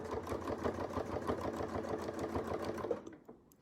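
A sewing machine runs steadily, stitching down bulky quilt sashing in a fast, even mechanical rhythm that fills most of the stretch before stopping abruptly near the end.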